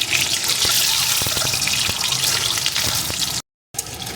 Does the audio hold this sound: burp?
no